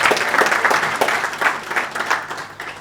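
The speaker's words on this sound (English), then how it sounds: "A round of applause for her." Steady audience applause at an evening event welcoming a guest, a sustained even wash of many hands clapping at moderate distance with no speech.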